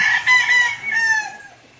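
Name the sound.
Roundhead x Yellow-Legged Hatch gamefowl chickens, rooster crowing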